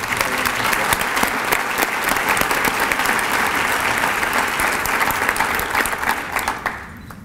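Sustained, dense applause from an audience at a school district employee-of-the-year award ceremony, steady and loud for several seconds before fading out at the end.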